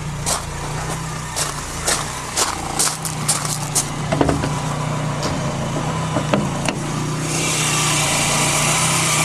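A Volkswagen Scirocco GTX fitted with a DX engine runs steadily, a constant low idle hum under scattered clicks and knocks, with a brighter hiss building near the end.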